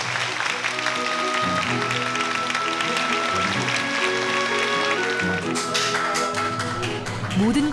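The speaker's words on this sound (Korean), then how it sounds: "연주가 끝남과 동시에 관객들의 끊임없는 기립박수가 이어집니다." An audience rises in a standing ovation after a bandoneon concert, a dense, steady wash of clapping that carries on without pause, with some voices mixed in.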